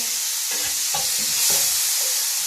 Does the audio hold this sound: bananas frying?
yes